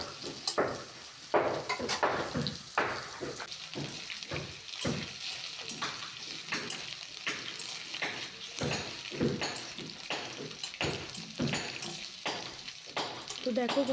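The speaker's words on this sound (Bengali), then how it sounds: "আলুগুলো আমি তেলেতে ছেড়ে দিয়েছি। এভাবেই নেড়ে ছেড়ে উল্টে পাল্টে একটু লাল লাল করে" Potato pieces fry in hot oil for a Bengali aloo dish, a steady sizzle broken by repeated scraping and clattering strokes as they are stirred and turned in the pan, close and fairly loud.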